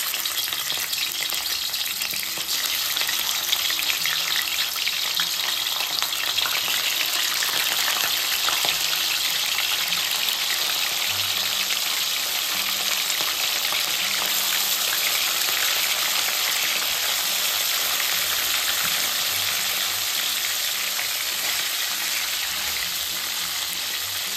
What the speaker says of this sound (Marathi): कढईमध्ये असे मासे टाकून घेणार आहे।